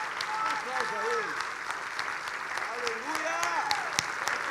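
Church congregation applauding through the clip, a steady broad wash of clapping with voices calling out over it.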